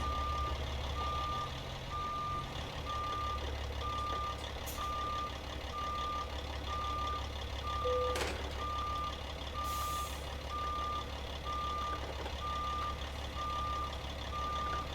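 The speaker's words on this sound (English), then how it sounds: "So we'll go ahead and throw her in reverse. And we'll back up to the trailer." A truck's reversing alarm beeps steadily in an even, repeating pattern as it backs up to a trailer, over a low idling engine hum, with a brief hiss of air near the middle.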